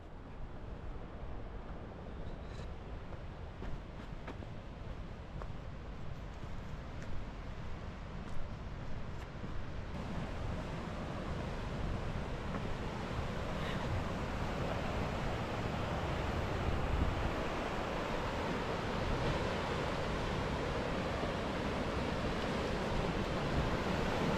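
Steady broadband rush of river water flowing beside a campsite, continuous and fairly loud, with gusts of wind on the microphone and no talking.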